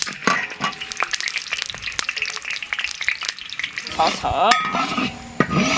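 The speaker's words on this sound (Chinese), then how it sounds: "开始熬糖色" Sugar sizzles and crackles in hot oil in a wok while caramel color is cooked for braised pig trotters, with steady close frying hiss broken by repeated scraping stirs and sharp pops.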